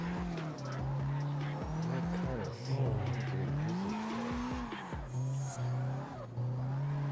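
Tires squeal and skid as a car drifts in a driving video game, with a steady engine drone rising and falling under the repeated screeching slides.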